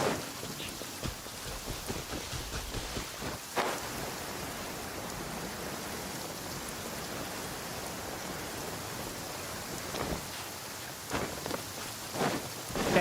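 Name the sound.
rain in a courtyard, from the video game Genshin Impact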